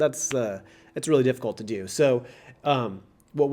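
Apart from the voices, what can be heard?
None of the usual background noises is heard.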